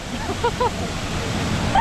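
A waterfall at Malshej gives off a steady, dense broadband rush that fills the brief moment, with faint voices in the background.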